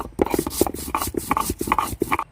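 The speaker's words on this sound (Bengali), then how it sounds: "মশলাটা বেটে নিচ্ছি আর আমি কিছুটা ধনে ব্যবহার করছি বেটে নিচ্ছি মশলাটা ভালো করে" Spice paste with coriander is ground by hand on a grinding stone for an elephant foot yam dhoka dalna, making close, rhythmic rasping strokes that rub back and forth steadily.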